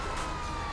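Police car siren in GTA V, a brief steady wail heard for under a second at a moderate level.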